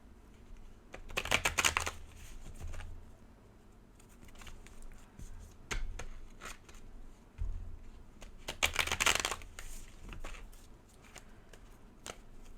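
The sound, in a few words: shuffling a tarot card deck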